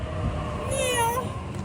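Near a bus depot, a cat lets out one clear, drawn-out meow that rises and falls, over low background traffic rumble.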